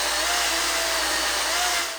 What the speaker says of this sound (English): the powerful brushless motor handles this 290 millimeter thick tree trunk very swiftly